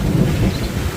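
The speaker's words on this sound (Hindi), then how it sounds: "मैं अभी लसूड़े के दरख्त के नीचे बैठा हूँ और यहाँ तेज़ बारिश हो रही है दोस्तों" Heavy rain pouring outdoors under a lasura tree, a loud, dense, continuous roar with rumbling low weight and no pauses, no voice present.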